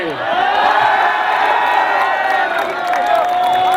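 An audience at a mushaira poetry recital breaks into loud cheering and whooping, a dense crowd roar with raised voices sustained across the whole moment.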